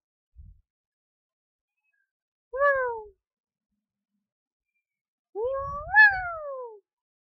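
A cat meows twice, first a short rising-falling call and then a longer drawn-out whining meow, close and loud against near silence with a soft thump at the start.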